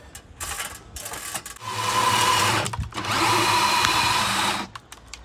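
A power drill bores into pergola timber with a bit, its motor whining loud and close in two long sustained runs separated by a short pause and a quick stop-start.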